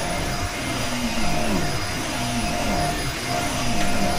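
Dyson vacuum cleaner running with strong suction, a loud steady roaring whine with slight wavering pulses in its tone, heard close and alone without speech.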